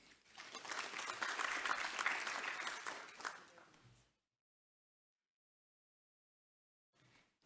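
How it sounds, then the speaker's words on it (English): Sustained clapping from a lecture audience at a public talk on energy sovereignty, a broad, even burst of applause lasting about four seconds before cutting to silence, with a faint brief return near the end. "Ladies and gentlemen, please give a big round of applause."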